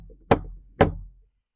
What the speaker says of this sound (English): I'm going to give it a knock.